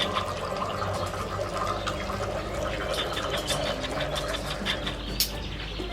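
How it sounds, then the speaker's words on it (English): Continuous watery rushing and trickling of boiling water being poured into a teapot, steady and close, with faint chirps in the background. "then you are going to add 1 glass of boiling water"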